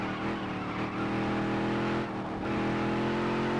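A race car engine in the NASCAR Dirt to Daytona video game drones loudly and steadily at high revs, holding a near-constant pitch with a brief dip, as if lifting off the throttle, before pulling hard again.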